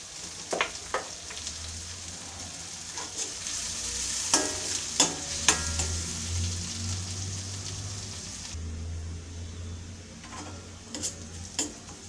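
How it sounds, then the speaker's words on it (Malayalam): Onions sauté in a pan with a soft steady sizzle, punctuated by occasional scraping and clicking of a spoon stirring, fairly faint and close with no talking. "ഇതൊന്ന് സോട്ട് ചെയ്തെടുക്കും"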